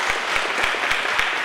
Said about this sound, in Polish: Tak, brawa, brawa.